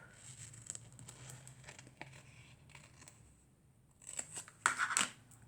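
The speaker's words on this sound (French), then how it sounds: "Il faut que je découpe." Scissors snip in a quiet room, a scattering of crisp single cuts early on, then a louder cluster of quick snips and crinkles toward the end, with no talking.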